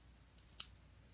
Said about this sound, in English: I am going to just snip this here